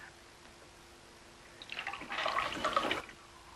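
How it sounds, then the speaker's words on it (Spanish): Water from a tap starts up and runs in a short splashing gush, swelling for about a second and then cutting off, with a quiet room hum underneath. "Aquí le das al grifo y tú el agua que quieras."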